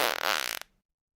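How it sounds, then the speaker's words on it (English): A short, loud sputtering fart sound effect with rapid fluttering pulses, cutting off abruptly after about half a second into silence. "No, this is a fart."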